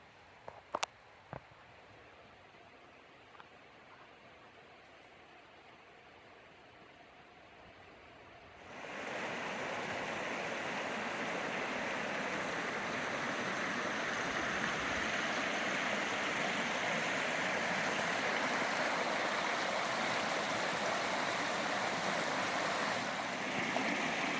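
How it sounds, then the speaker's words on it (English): Steady, broad rushing of a river along a hiking trail, starting faint with a few knocks, then swelling suddenly into a loud, constant flow that carries on to the end. "A beautiful river."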